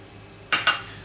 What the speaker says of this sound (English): Walnuts, in they go.